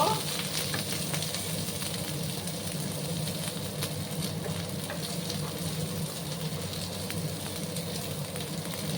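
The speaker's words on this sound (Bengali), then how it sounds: "2-3 মিনিটের মতো আমি ঝিঙেগুলোকে একটু ভাজা ভাজা করে নেব" Ridge gourd pieces fry in a pan with a steady, continuous sizzle, close and even throughout, with a low background hum and occasional stirring clicks.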